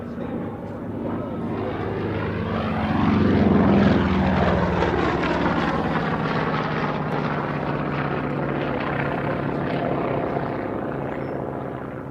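A propeller fighter aircraft such as the Corsair drones loudly overhead. Its engine note swells as it draws near and the pitch shifts as it passes, and the roar holds steady to the end.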